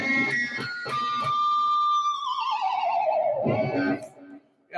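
Electric guitar imitates a horse's neigh: a few sharp plucked notes, then a long sustained high tone that slides steadily downward in a whinny-like fall before stopping abruptly, loud and clean with no voices.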